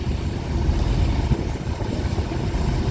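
Two river launches, MV Surovi 8 and MV Manami, racing side by side with engines at full thrust: a steady, heavy low rumble with wind buffeting, loud and continuous throughout.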